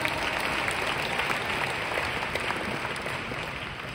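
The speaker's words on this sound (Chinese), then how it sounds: "我们给他一个掌声。" A seated audience at a Malaysian leadership training event breaks into dense, sustained applause, a loud, even wash of many hands clapping with no pauses.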